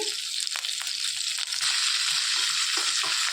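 Curry leaves go into a hot frying pan with cumin for an ivy gourd and coconut chutney, giving a loud, dense, steady sizzle with a sharp crackle at the start, close up.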